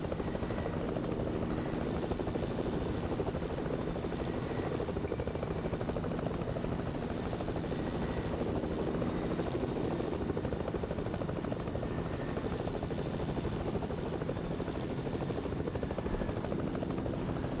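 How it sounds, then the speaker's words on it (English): A helicopter in the video game Fortnite drones steadily as it flies away, its rotor buzz and engine hum holding a constant, loud level throughout with no talk. "I head straight to the helicopter and go away"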